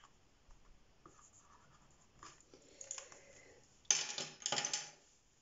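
A felt-tip marker writes a number on paper, giving soft scratchy strokes that grow into two louder, quick squeaking bursts near the end, close up and without talk.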